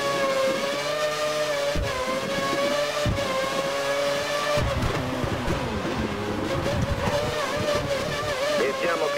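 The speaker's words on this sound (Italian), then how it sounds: "Pensiamo che la vettura alle sue spalle abbia impostato il motore sulla massima potenza." A Formula 1 car in the F1 2013 game at the Hungaroring, its engine screaming steadily at high revs with shifting pitch through gear changes, loud and continuous throughout.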